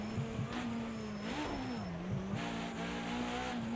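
A BMW 320 Turbo Group 5 race car in Project CARS 2 at Bathurst drones with a steady engine note that dips and rises under braking and downshifting, with faint tyre noise.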